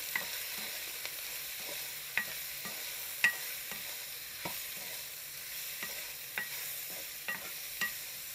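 Pork and rayo greens cook in a pan, a faint steady sizzle punctuated by soft, evenly spaced clicks of a spoon against the pan.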